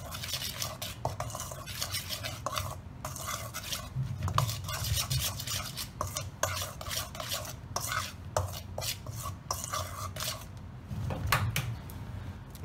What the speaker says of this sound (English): And just give that a quick mix.